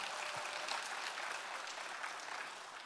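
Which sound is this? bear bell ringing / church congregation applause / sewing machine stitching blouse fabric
church congregation applause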